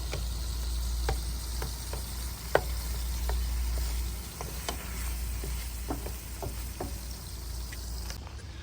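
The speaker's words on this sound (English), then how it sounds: "while the hamburger meat is grilling over there" Hamburger meat sizzles on a grill at a campsite, a faint, steady frying hiss with scattered small pops and crackles throughout.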